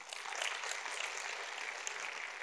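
Audience applause at a talk, dense and steady clapping from a crowd filling the whole moment, with no voices over it.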